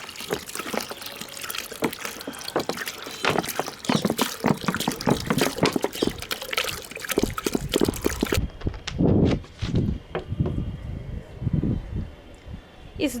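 Water pours steadily into a small tub for a two-litre aloe vera fertilizer mix, a continuous splashing gush for about eight seconds, then it stops and gives way to softer sloshing and dripping.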